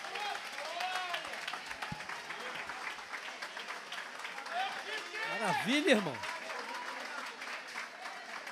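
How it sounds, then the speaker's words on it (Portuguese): Church congregation clapping hands in praise, a steady mid-level patter running under a preacher's voice and a musical tone, with voices and clapping swelling briefly near the end. "As palmas louvam o Senhor."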